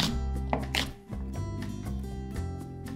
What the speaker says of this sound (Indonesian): Cili merah, potong kasar juga.